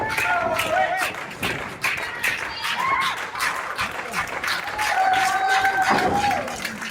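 A crowd at a live wrestling event cheers steadily for Zoë Sager, with sustained applause, claps and shouts throughout and a commentator talking over the noise.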